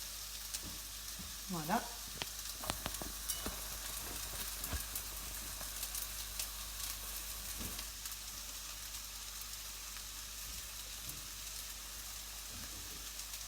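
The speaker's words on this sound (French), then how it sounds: "Tout est rejoint dans notre casserole que nous allons maintenant un petit peu tourner" Chopped onions and vegetables sizzle in a saucepan while being stirred for a seafood blanquette, a steady close frying hiss broken by clicks and scrapes of the spoon, with a brief spoken word near the start.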